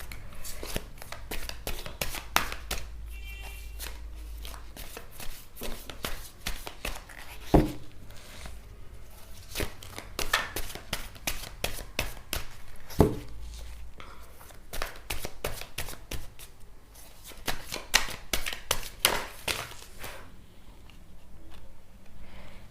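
Tarot cards being shuffled by hand, a steady stream of crisp riffling flicks and soft slaps going on and on, close and moderately loud, with some cards occasionally popping out of the deck.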